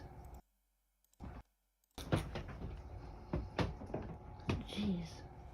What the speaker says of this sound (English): you can hear the doors